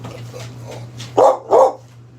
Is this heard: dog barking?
yes